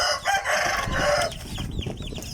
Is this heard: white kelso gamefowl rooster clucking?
yes